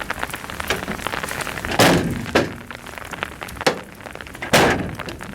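Rain falling outdoors while beehives full of harvested honey are carried, a steady patter broken by several sharp thumps and knocks of the hives being set down, fairly close, with no voices.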